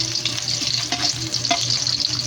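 Chopped onion and garlic sauté in hot oil in a pan for a home-style chicken and mushroom dish, giving a steady, close sizzle broken by a couple of brief stirring scrapes.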